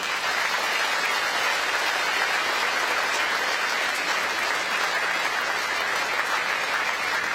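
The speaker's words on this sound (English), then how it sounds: "you can help me to give a big round of applause to them" A crowd at a groundbreaking ceremony for a Malaysian Chinese studies institute gives board members a long, even round of applause, steady dense clapping from a gathered audience with no pause.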